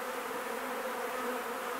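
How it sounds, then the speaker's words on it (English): Honey bees in a barrel being rescued, a dense, steady buzzing drone of many insects that holds close and even throughout with no voices. "Let's see how many bees we can get in here."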